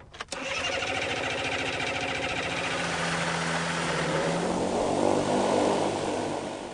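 A flying trike's propeller engine cranks with a short burst, catches and settles into a loud, steady running drone close by, with no talk over it.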